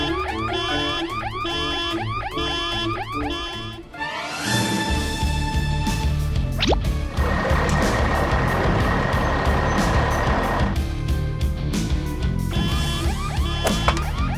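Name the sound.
animated truck driving away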